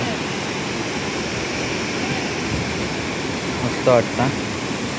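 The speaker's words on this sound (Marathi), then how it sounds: "हा बघा कसला प्रेशरने पाणी पडता आता बघा." Waterfall on a monsoon trek pouring down under strong pressure, a steady broadband roar filling the whole clip while someone speaks briefly near the end.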